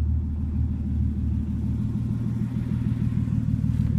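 A Nissan 280ZX with a turbo engine idles just after startup, a steady low rumbling drone with a regular pulsing beat, close and even throughout.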